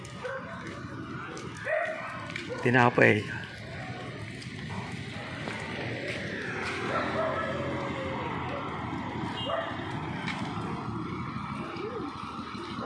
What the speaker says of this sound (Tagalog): Galit yung aso eh.